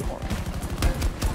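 Battlefield 2042 gunfire crackles in rapid bursts, close and loud, with several sharp shots stacking into a short ragged volley.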